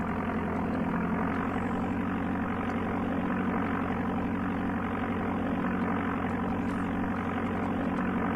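Propeller plane engine drones steadily in the Amiga game Flight Simulator II, a continuous loud buzzing hum with a stable pitch and no pauses throughout.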